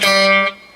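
A guitar chord played with a collapsed fretting knuckle rings briefly and brightly with a buzzy, muted edge, cut short after about half a second.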